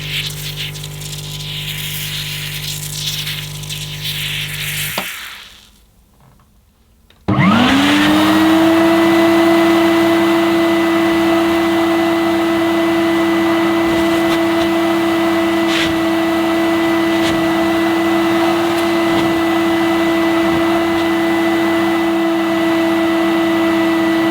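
A Hoover S4488 Aquajet vacuum cleaner with a short tube attached starts after a brief pause, then drones loud and steady with a constant whining motor tone.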